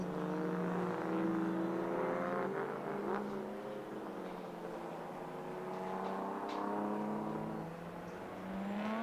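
Jaguar Mark II saloon racing cars with the XK engine circuit at Silverstone, a steady engine drone with rising and falling harmonic tones as the cars accelerate and pass, fairly loud and continuous.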